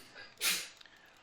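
A single sharp sneeze bursts out close and loud, brief and breathy, then fades into quiet room tone.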